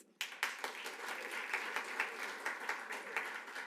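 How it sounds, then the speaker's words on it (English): A school board meeting audience applauds high school student athletes in a burst of clapping that starts abruptly and continues fairly evenly, moderately distant and somewhat quiet in the hall. "We applaud these student athletes"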